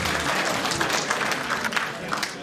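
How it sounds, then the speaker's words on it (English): Mourners at a burial gathering applaud in a continuous, fairly loud patter of many hands while a voice speaks faintly beneath the clapping. "Give a round of applause as he comes up, ladies and gentlemen."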